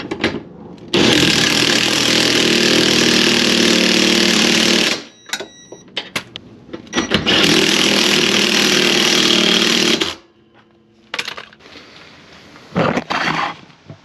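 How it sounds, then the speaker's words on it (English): An impact wrench drives 3/4 inch subframe connector bolts on a 2004 Pontiac GTO, long loud rattling bursts separated by short pauses, clanks and mechanical clicks, no talking. "Use the impact down here and our socket up top."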